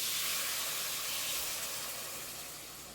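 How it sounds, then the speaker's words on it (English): Steady broadband hissing rush of boiling water poured slowly into a pot, fairly even throughout and slowly fading toward the end, with no talking. "I'm gonna put this boiling water in here slowly."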